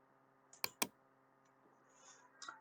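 Two crisp, close clicks from a computer keyboard, then fainter scattered taps, heard in a quiet room with a low electrical hum underneath.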